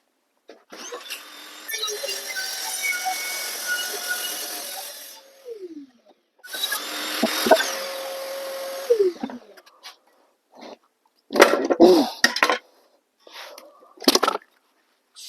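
An Evolution R255PTS table saw making test cuts in wood: the motor whines through two long cuts with pitch drops as the blade loads and spins down, followed by several short bursts.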